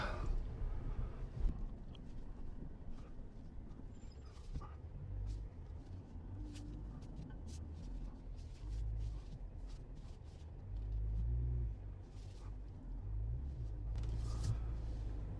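Pickup truck engine rumbling low and steady while driving in four-wheel drive along a farm road, with occasional clunks and rattles from the vehicle over the uneven surface.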